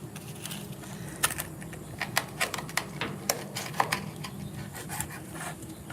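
A sharp Messermeister knife cracks and cuts through a lobster shell, giving a run of irregular crisp snaps and ticks close by, fairly quiet, with no one talking.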